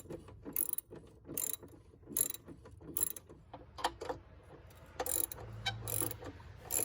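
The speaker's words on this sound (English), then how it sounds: "using the 10mm deep socket, loosen the battery bracket." A ratchet turning a 10mm deep socket to loosen the battery bracket on a 5th-gen Toyota 4Runner, heard as repeated close bursts of rapid pawl clicking separated by short pauses, with no talking.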